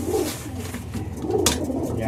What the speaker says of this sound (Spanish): así me gusta ver las palomas